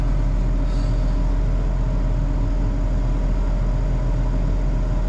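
A tractor engine idling at low speed, a loud, steady low rumble with a continuous drone and no change in pace throughout.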